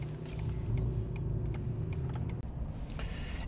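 Truck driving down the main road in La Posa South near Quartzsite, a steady close engine rumble with road noise, continuous throughout with one brief dropout.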